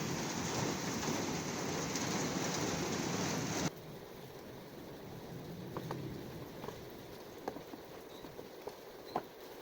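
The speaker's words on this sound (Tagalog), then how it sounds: "Pumapatak na naman ang ulan sa bubong ng bahay." Steady rain patters on a roof, loud at first and then dropping to a quieter drizzle, with scattered drips and taps afterward.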